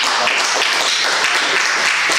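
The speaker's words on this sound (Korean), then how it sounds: "우리 지난 3일간도 우리를 도와주신 하나님 앞에 감사와 영광의 박수를 드리겠습니다." Congregation applause during a Korean Wednesday service at a Toronto church, a dense, even round of clapping filling the whole short stretch.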